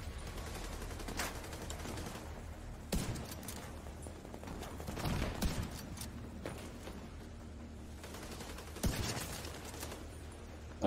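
Shotgun fire in the video game The Division 2, several sharp, loud blasts spaced seconds apart over a low background of game noise and scattered distant shots.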